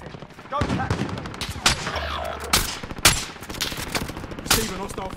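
Gunfire in Call of Duty: Modern Warfare, a string of sharp, loud shots and bursts scattered across the moment, with clipped voices talking over and between the rounds.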